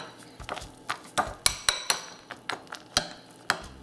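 A spoon clinks and scrapes against a bowl of Tiny Toast strawberry cereal in a quick series of sharp, close metallic taps, roughly a dozen irregular strikes with no talk.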